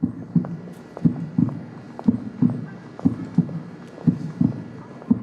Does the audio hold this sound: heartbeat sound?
yes